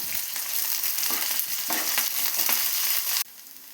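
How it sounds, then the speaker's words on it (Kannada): Mustard seeds, onion, garlic, four dry chillies, curry leaves and cumin fry in hot oil for peanut chutney, giving a steady dense sizzle with light stirring scrapes that drops to a softer hiss near the end. "ಎಣ್ಣೆ ಕಾದ ನಂತರ ಸಾಸಿವೆ, ಈರುಳ್ಳಿ, ಬೆಳ್ಳುಳ್ಳಿ, ಒಣಮೆಣಸಿನಕಾಯಿ 4, ಕರಿಬೇವಿನ ಸೊಪ್ಪು, 1/4 ಟೀ ಸ್ಪೂನ್ ಜೀರಿಗೆ ಹಾಕಿ ಫ್ರೈ ಮಾಡ್ಕೊಳ್ಳೋಣ"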